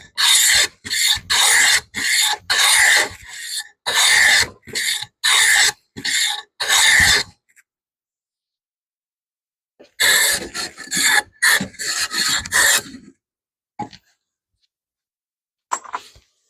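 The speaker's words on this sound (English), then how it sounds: "I really love this little block plane." A small block plane chamfers a wooden edge in loud, rasping strokes, about a dozen quick passes, a pause of a few seconds, then another burst of strokes before it falls silent.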